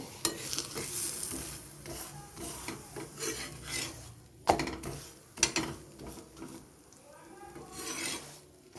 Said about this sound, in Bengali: এবার এপিট ওপিট করে তেল দিয়ে আমি সেঁকে নেব